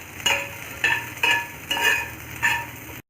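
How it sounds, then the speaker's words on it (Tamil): Shallots and garlic frying in a pan, five rhythmic stirring strokes with bright metallic scraping over a low sizzle, close, ending abruptly in silence, no speech. "ரெண்டையும் நல்லா வதக்கிக்கோங்க."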